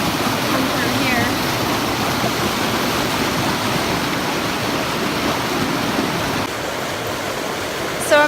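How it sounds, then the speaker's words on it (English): Waterfalls on the French River roar in a loud, continuous rush of white water that holds steady from start to finish, with a faint voice briefly audible over the noise. "So I'm at these awesome waterfalls where I accidentally ended up"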